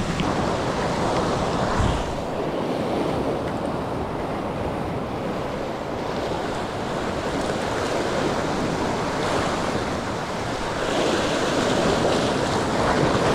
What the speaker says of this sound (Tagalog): Lakas ng alon eh